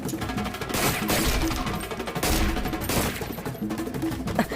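Rapid bursts of gunfire crack and rattle loudly amid chaotic, noisy action-movie fighting, with several sharp volleys in quick succession.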